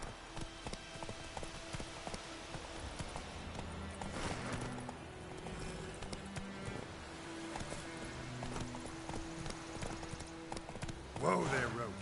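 Hooves of Roach, the horse in The Witcher 3, clip-clopping in a steady rhythm under game music and speech, with a short whinny near the end.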